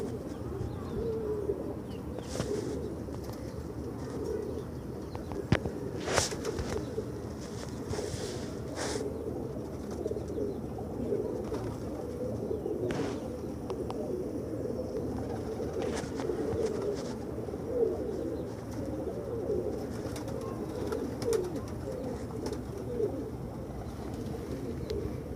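Soft, continuous pigeon cooing fills the background at a pigeon market in Multan, low murmuring calls overlapping steadily with occasional faint rustles and clicks.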